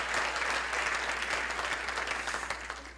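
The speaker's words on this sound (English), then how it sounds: "Now give yourselves a big round of applause for what you do each and every day." Crowd at a Washington State DEI summit applauds in a sustained, dense wash of clapping that holds steady and eases slightly toward the end.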